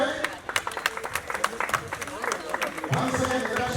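Applause from an audience at an outdoor environmental event mixes with crowd murmur and voices, irregular claps rising and fading under ongoing talk.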